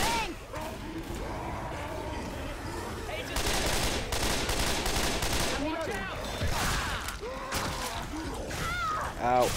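Gunfire in Left 4 Dead 2 during a zombie fight, rapid loud bursts of shots across the whole stretch, mixed with game voices and chaotic effects.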